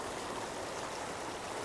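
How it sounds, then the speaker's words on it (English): Water gushes hard over a river spillway in a continuous dense rushing hiss, loud and steady, with no voices. "this water is just gushing all over the place"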